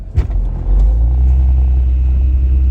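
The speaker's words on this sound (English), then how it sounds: "I can't believe how loud this freaking car is." A loud car pulling out, a deep, heavy engine rumble that swells after a short bump and then holds a steady, booming low drone close by.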